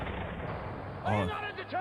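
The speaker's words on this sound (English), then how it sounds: "Let me know if you hear the gunshots," Gunshot sound effects played from a computer during a podcast, a brief burst of booming shots under and between people talking.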